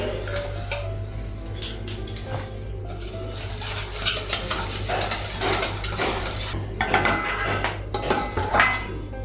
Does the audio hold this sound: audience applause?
no